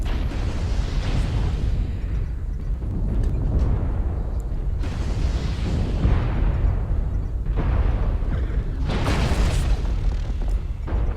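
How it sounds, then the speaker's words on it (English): Artillery strikes in a video game erupt in heavy, overlapping explosions, a dense continuous rumble of booms with louder bursts swelling every few seconds and no voices. "Artillery strike online."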